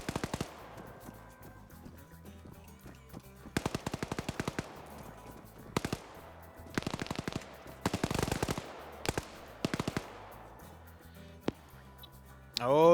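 Bursts of rapid gunfire in a competitive video game match, several separate volleys of automatic fire spread over the span with quiet gaps between them, fairly faint in the mix.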